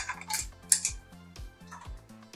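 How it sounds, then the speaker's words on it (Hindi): Metal clanks and clicks from a pressure cooker lid being fitted and locked on while cooking chole, a run of short sharp knocks in an uneven rhythm, close and moderately loud with no talk. "और कुकर का ढक्कन लगाकर"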